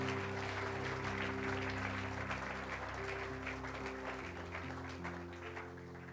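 Faint applause from a church congregation during a Spanish-language sermon, a soft, continuous clapping texture running throughout, nearly buried under sustained keyboard or organ tones.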